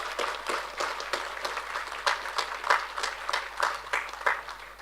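Graduates at a Faculty of Medicine and Health summer ceremony clap for themselves, a moderate, fairly distant round of applause with uneven, pulsing bursts.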